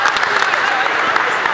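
Crowd applause for the Riga girls' basketball team at a youth league super-final, a dense steady wash of clapping filling the arena, with a voice speaking over it.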